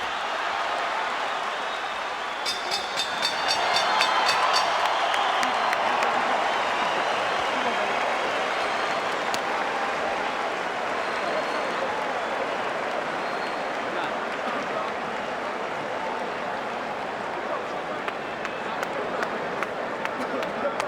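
Boxing arena crowd roaring and cheering on its feet through the final seconds of a title fight between Shane Mosley and Oscar De La Hoya, a dense, steady wall of noise with scattered applause and a brief rise near the start.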